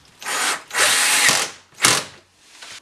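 Power drill driving screws into a wardrobe frame during sliding-wardrobe assembly, three loud close bursts of whirring with short pauses between them and a faint tail at the end.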